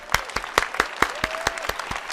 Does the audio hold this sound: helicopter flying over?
no